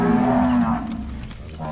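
Nelore cattle on a farm give one loud, close, sustained low moo lasting under a second, followed by quieter lowing and farmyard noise.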